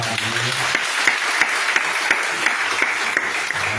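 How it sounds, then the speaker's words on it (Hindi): A church congregation claps together in a steady, even rhythm of sharp hand claps, close and loud over a faint background murmur. "कलीसिया एक बार और हम एक ताली बजा के"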